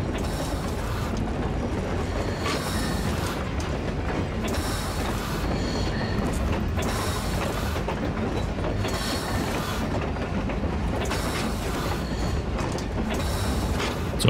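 A train in the video game Metro Exodus rumbles past in a steady, loud wash of low rolling noise and metallic clatter, with periodic wheel clacks over about fourteen seconds.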